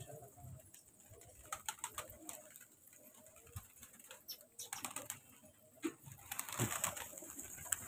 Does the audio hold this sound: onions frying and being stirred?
no